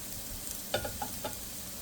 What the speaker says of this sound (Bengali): রসুনটা একটু ভেজে